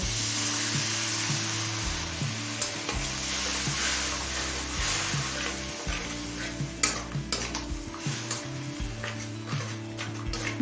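Ground cumin, coriander and Kashmiri chili powder sizzle hard in a pan after a splash of water, a loud close hiss with busy stirring scrapes, a low steady hum underneath, and no voices.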